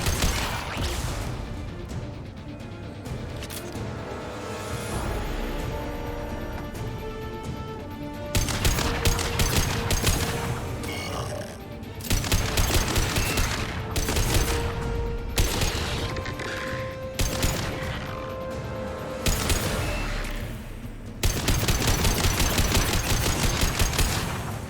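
Heavy weapon fire in Mass Effect 2 roars in long sustained bursts of loud automatic shooting, broken by short lulls and crashing impacts.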